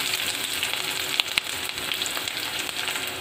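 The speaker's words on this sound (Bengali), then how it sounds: "জিরাগুলো ফুটে উঠলে পরে এর মধ্যে দিয়ে দিব আমি পেঁয়াজ কুচি।" Chopped onion sizzles in hot oil with whole cumin seeds, a steady close crackling fry with a couple of sharp pops and no voices.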